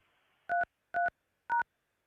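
Three short DTMF keypad tones, evenly spaced about half a second apart, enter a meeting number on a call-in phone line, each one a clean, clear beep against near silence.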